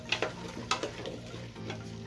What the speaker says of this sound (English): So you add the eggplants, biringanya. Give it a good stir.